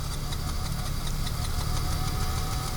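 Motorbike engine at a red light struggling to start, sputtering and knocking unevenly at close range, loud and steady throughout with no talk.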